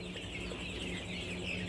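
A rooster among a flock of 35-day-old young birds at a poultry sale clucks steadily at close range, with constant farmyard clatter and chatter running underneath throughout.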